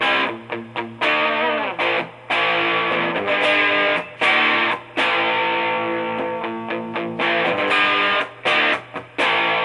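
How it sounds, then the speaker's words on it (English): Electric guitar played with overdriven crunch through a Fender Blues Junior amp: loud, chunky chords struck in bursts with short pauses and ringing sustain, no voices. "Pretty good little crunch there."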